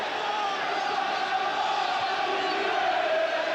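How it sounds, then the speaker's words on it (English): Home fans at a Swindon Town versus Sheffield Wednesday football match keep up a dense, continuous roar of chanting and shouting in a stadium, with the crowd loud and steady throughout. "You can hear the difference in the crowd, Ian, when they put a bit of pressure on."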